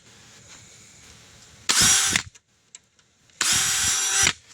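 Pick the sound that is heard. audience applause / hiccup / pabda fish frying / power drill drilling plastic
power drill drilling plastic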